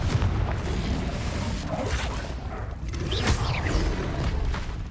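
A Confringo blasting spell fires in a video game as a heavy booming explosion, followed by rolling rumble, whooshing swishes and scattered pops that keep the sound loud and busy for several seconds.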